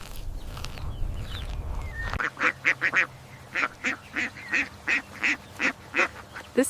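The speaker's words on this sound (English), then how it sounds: "This is a small brown farm duck." Small brown farm duck quacking in a steady series of about a dozen loud, close calls at an even rhythm after a brief rumbling lead-in, with no one speaking.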